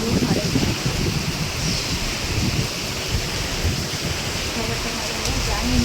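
Steady rain pours over a garden, a dense, continuous hiss with low rumbling wash throughout and no distinct drops standing out.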